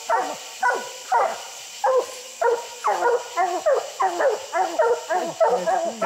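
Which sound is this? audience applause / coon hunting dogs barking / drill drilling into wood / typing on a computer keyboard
coon hunting dogs barking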